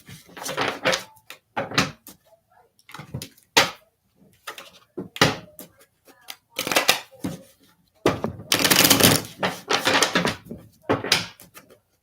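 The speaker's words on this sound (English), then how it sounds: "All right, let's get two more shuffles." Tarot cards shuffled in bursts of crisp riffling and soft slaps, repeated several times with short pauses between, close and moderately loud.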